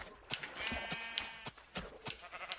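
Sheep in Minecraft bleat several times in short wavering calls, mixed with scattered sharp clicks and thumps of game action, fairly quiet overall.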